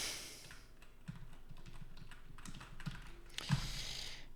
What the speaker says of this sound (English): this is really annoying to type